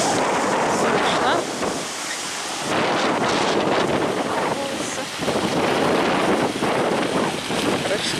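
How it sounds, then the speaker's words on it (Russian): Strong wind buffets the microphone outdoors on a walk, a loud, continuous roaring rush that swells and eases in gusts for the whole stretch, with no clear talk over it. "Здесь, короче, сильный ветер."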